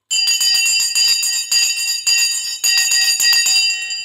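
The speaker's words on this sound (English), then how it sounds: "The bell has now gone." The stock market closing bell rings loudly and continuously, a rapid metallic clanging with bright sustained tones and no talk.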